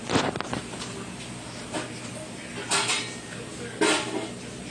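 Cooking pots and pans clank and clatter in a home kitchen as someone rummages for a pot to boil pasta water, with a few louder metallic bangs standing out from steady background rattling.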